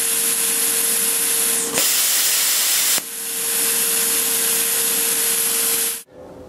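Thermal Dynamics Cutmaster 42 plasma cutter running its arc: a loud, steady broadband hiss with a constant tone, briefly interrupted twice, then cutting off abruptly near the end, no talk.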